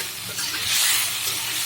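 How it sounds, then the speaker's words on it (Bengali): Chopped bottle gourd sizzles steadily in a hot pan of fried chicken as it is sautéed and stirred, a continuous close frying hiss with faint scraping underneath. "লাউগুলো দিচ্ছি, কারণ যেহেতু চিকেনটা ভাজা, লাউগুলো আগে কষিয়ে নেবে,"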